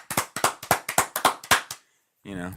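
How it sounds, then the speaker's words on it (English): A quick run of roughly a dozen sharp, close hand claps from a podcast host rattles off for under two seconds, then silence, followed by a voice. "Give him a round of applause."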